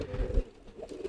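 A homing pigeon coos, low soft throaty murmurs repeating in a gentle rhythm, close and fairly quiet with no one talking.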